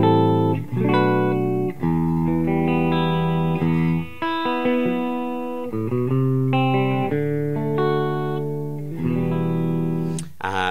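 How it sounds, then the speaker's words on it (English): Overdriven electric guitar played straight into a Big White Monkey Silverback amp with no pedal, ringing out sustained distorted chords and single notes in a steady, loud riff with no talk. "This is not exactly the cleanest guitar in the world,"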